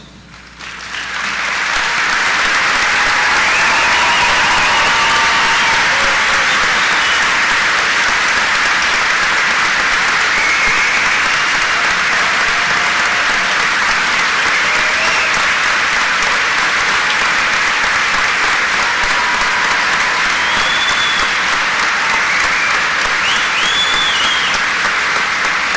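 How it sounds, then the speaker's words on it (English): A large graduation audience applauds students enlisting in the armed services, sustained, dense clapping that swells up in the first seconds and then holds loud and steady with faint crowd noise, no speech. "please stand and be recognized with a round of applause"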